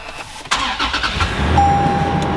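A fifth-generation Toyota 4Runner is started: a short starter crank catches and the engine fires up, settling into a steady idle with a faint electronic chime from the dashboard.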